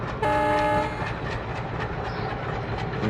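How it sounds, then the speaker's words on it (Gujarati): A short, loud horn blast from a WDM3D diesel locomotive in an Indian train video game, followed by a continuous rumble of the moving train. "અને 2-3 હોરન મારી દીધી બરોબર."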